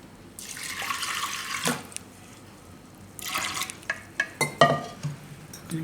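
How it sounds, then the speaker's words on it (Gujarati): Water pours into a metal pressure cooker holding soaked chana dal in two splashing bursts, followed by a few drips and small clinks. "આમાં થોડુંક પાણી નાખી દેવું"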